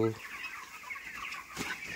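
Broiler chickens on a poultry farm, a flock clucking in a steady murmur of overlapping calls, with one louder nearby call at the start and a brief sharper burst near the end.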